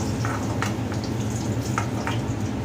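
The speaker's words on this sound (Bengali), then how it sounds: "এই যে আলুটা লাল লাল করে ভাজা হয়ে গেছে, তুলে নিচ্ছি এবার আলুটাকে" Potatoes fry in hot oil in a wok with a steady, close sizzle, dotted with a few light pops and scrapes and no talking.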